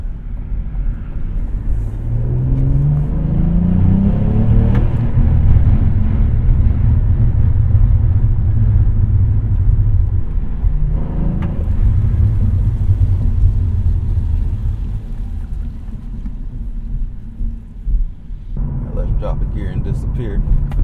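Cadillac CT4-V Blackwing heard from the cabin with the window cracked: a loud, low exhaust rumble with rev sweeps on downshifts and brief burbling crackles after them.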